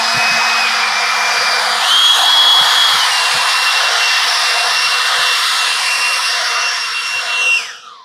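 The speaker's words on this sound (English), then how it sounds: "So the 230iB Husqvarna battery powered blower." A Husqvarna 230iB battery-powered leaf blower runs at a loud, steady, close high-pitched whine, briefly rising in pitch, as it blows gravel, then winds down at the end.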